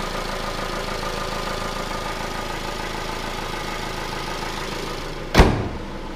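A 2015 Jeep Renegade Trailhawk with a 2.4 liter engine runs at a steady idle close by, a continuous even drone, with one sharp thump just before the end.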